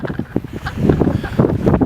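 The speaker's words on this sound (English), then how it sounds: "Way too windy up here." Gusty wind at Joshua Tree National Park buffets the microphone with uneven low rumbling bursts, loud and close, growing stronger in the second half.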